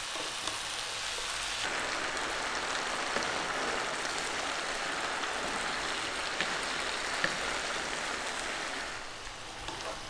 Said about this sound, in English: And I'm gonna cook this for about another 4 minutes or so. I'm gonna be stirring it pretty much all the time.